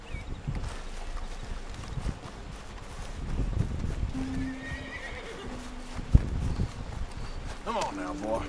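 Horse in the video game Red Dead Redemption 2 on PC, heard as steady hoofbeats beneath ongoing speech, with a loud, clear whinny near the end.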